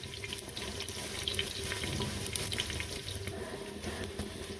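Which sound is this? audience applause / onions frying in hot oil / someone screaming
onions frying in hot oil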